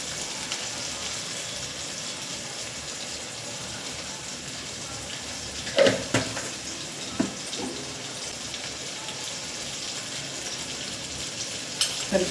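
Tomatoes for gongura pulao cook in a pan with a steady, even sizzle throughout, broken by a couple of sharp utensil clinks near the middle and at the end.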